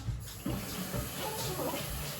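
Water pours steadily from a tap to top up a container in a home kitchen, a continuous close splashing rush that runs the whole time with a faint voice in the background.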